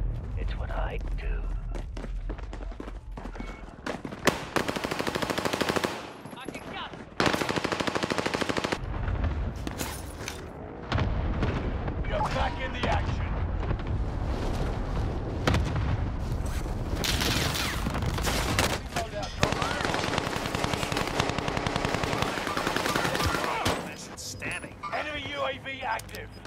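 Automatic gunfire rattles through a Call of Duty: Modern Warfare match: loud, dense bursts of machine-gun fire and shots recur almost without pause, with thuds and mechanical clatter mixed in.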